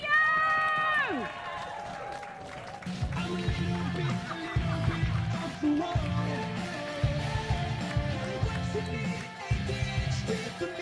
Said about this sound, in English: I want to hear you stomp your feet.